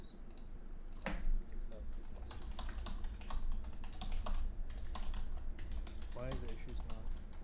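Someone types a search on a computer keyboard, with a steady run of quick close key clicks and a voice in the background.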